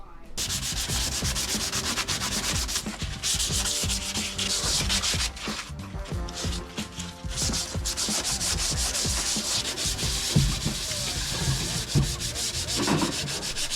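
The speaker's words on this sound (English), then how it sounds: "now we can start scuffing up the paint" Abrasive scuffing of painted metal on the interior floor of a Vauxhall Corsa project car, continuous rough back-and-forth rubbing strokes, close and loud, with brief pauses, no talk.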